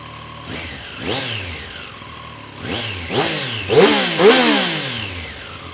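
A 2024 Triumph Street Triple 765 RS idles with a steady throb, then is revved in a series of sharp blips that rise and fall, growing louder with each of the last few rises, close up and alone.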